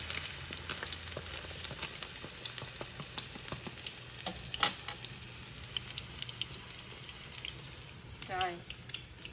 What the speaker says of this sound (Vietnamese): Nghe chờ hành tím thơm rồi nghe cho thịt cua vào